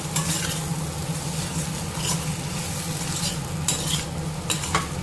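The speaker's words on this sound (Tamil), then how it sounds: "இது கூட ஒரு 2 நிமிஷம் ஸ்லோவிலே வச்சு நல்லா கிளறி எடுத்துக்கோங்க" Spiced potato masala frying in a pan gives a continuous sizzle, while a spoon scrapes and stirs with scattered clinks against the pan.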